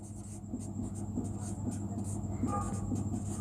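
Chalk taps and scrapes on a board during a physics lesson in a steady run of short, rhythmic strokes. It is faint and continuous against a low background hum.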